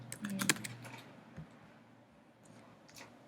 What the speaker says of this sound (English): I'm typing in small case